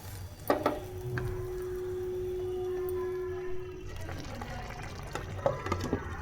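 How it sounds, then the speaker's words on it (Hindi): Water pours into a pot of cooking potatoes in a home kitchen, a steady filling stream with a rising tone lasting a few seconds, followed by soft clatter and bubbling. "मैंने थोड़ा सा पानी और डाल दिया, अच्छे तरीके से गल जाए इसलिए।"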